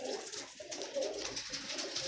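Pigeons coo softly nearby in a couple of low, rolling calls against faint background noise.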